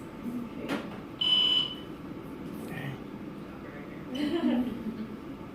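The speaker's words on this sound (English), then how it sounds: "Security alarm's going off" A high, steady electronic security alarm tone in a hospital room beeps briefly amid room noise and voices, sounding once and cutting off.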